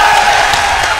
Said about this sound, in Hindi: जरा ताली बजाइए, ताली बजाइए